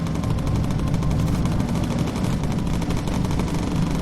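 Dense, continuous gunfire in the bomber-flying game Bomber Crew, a loud steady rattle with engine drone beneath it and no talking.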